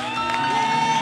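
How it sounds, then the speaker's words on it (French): A church congregation cheers and acclaims in unison at a worship festival, a loud sustained crowd roar with whoops and raised voices that holds steady without a break. "Acclamons royalement le Seigneur"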